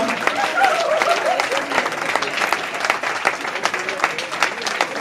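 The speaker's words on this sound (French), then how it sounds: "S'il vous plaît, ovation pour Warren. Ovation également pour Nadia." A theatre audience at the Magic Mirrors gives performers an ovation: dense, steady clapping throughout, with a voice heard over it near the start.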